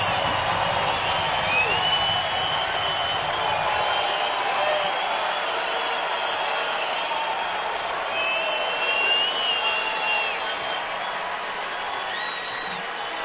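A basketball arena crowd at a Boise State home game against Colorado State roars and applauds in a loud, sustained, diffuse wash of cheering, with a commentator talking over it.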